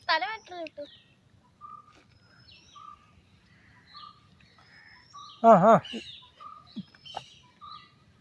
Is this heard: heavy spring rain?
no